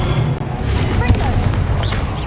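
The Confringo blast spell in Hogwarts Legacy goes off as a single loud, booming burst that rumbles over continuous game sound.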